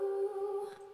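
Sustained backing vocals sit under chorus and a short delay that doubles them, giving a thick, slightly smeared held tone. The note swells, then eases off over about a second, with no speech.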